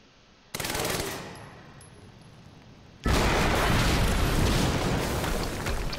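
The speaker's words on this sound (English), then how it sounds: "We just heard an explosion near the harvesting perimeter." In the Quantum Break video game, an explosion bursts in with a sudden loud roar that fades, then a second, heavier blast erupts and keeps roaring as a dense, sustained rumble to the end.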